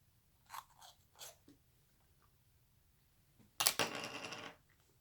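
A Mystery Flavor Oreo cookie bitten and chewed close by, with faint soft crunches early on and then one loud, crisp crunching bite that breaks into brief chewing.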